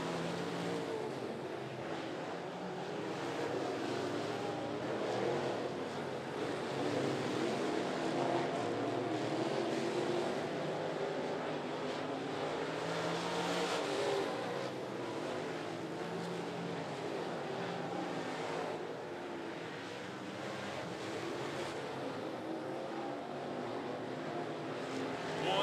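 Late model race cars roar around 411 Motor Speedway, a continuous dense engine drone swelling and easing as the pack circles, heard from trackside.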